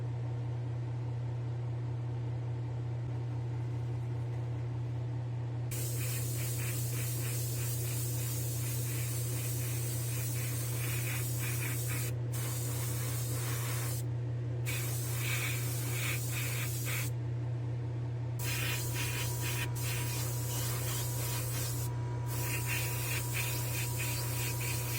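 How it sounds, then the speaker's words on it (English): A red stripe being spray painted onto a van in a spray booth: long continuous loud hissing bursts of spray with brief gaps between passes, over a steady low booth hum. "I'm ready to go spray this red stripe"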